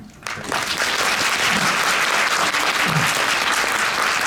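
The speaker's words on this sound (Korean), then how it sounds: "전달이 잘 됐으면 큰 박수" A film screening audience breaks into loud, sustained applause after a short quiet start, the dense clapping continuing steadily to the end.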